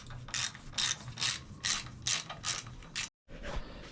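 Bursts of ratchet clicking as a wrench tightens suspension bolts on a Suzuki RM 125 motorcycle, about eight quick ratcheting strokes in a steady rhythm, close and clear, with a brief pause near the end.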